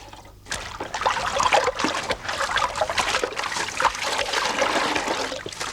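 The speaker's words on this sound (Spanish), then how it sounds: "las madejas se aclaran con agua tibia, pasando después al agua fría" Skeins of naturally dyed wool being rinsed by hand in warm then cold water: continuous close splashing, trickling and dribbling with small bursts of sloshing throughout.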